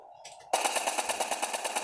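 Rapid automatic gunfire in a video game bursts in after a quiet start, a dense fast rattle of shots that stays loud and steady to the end.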